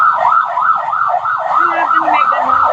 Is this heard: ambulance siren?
yes